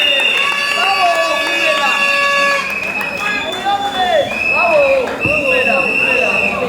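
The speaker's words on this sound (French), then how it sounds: "est-ce qu'on peut les encourager avec les acclamations?" Guests at a Congolese civil and customary wedding cheer and acclaim the couple, with loud, sustained crowd noise, shrill whistle- or horn-like tones and many voices throughout.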